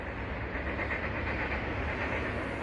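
A freight train rolls past on the rails with a steady rumble and a faint rhythmic clatter of wheels, moderately distant and unbroken.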